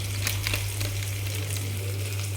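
Spice powder with mutton masala and garam masala being stirred in a hot frying pan for mutton head curry, a continuous close sizzle with scraping stir strokes over a low steady hum.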